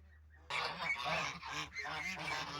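Several geese honk loudly and repeatedly in an overlapping, raucous chorus that starts suddenly after a brief quiet moment, in an enclosed poultry area shared with ducks and chickens.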